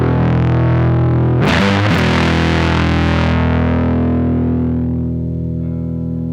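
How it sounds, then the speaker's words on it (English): An electric guitar played through a Fuzz Face pedal rings out a sustained chord, a sharp strummed attack turning thick and fuzzy before the distortion eases and the note decays slowly. "So as we play, we can control the level of distortion we want"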